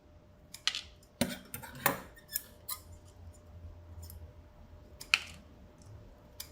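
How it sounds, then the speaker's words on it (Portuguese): Scissors snip small pieces from cardboard in a few crisp, separate cuts, close and quiet with short pauses between them in an otherwise still room. "Eu vou cortar alguns pedacinhos."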